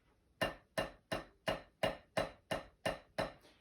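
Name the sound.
tambourine played too delicately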